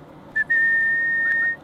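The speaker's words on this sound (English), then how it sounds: "I like the whistle." A single clear, steady whistled tone, briefly broken at the start, then held for over a second, close and loud.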